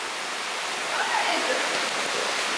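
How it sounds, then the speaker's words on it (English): Footsteps sloshing through flowing water in a cave, a dense splashing rush that swells briefly midway, heard close with people nearby. "Why are you straight up walking in the water?"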